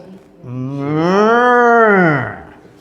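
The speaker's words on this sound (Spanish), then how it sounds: "los mugidos de las vacas" A single long cow moo, loud and close, swelling smoothly then tapering off over a couple of seconds with no other sounds around it.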